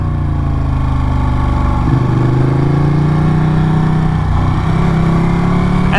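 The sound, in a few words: Ducati Panigale 959 motorcycle engine in first gear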